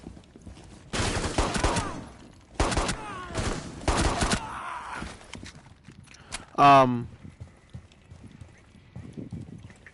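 Gunfire in the Rainbow Six Siege video game crackles in several sharp, close bursts spread over a few seconds, with quieter game sounds between them.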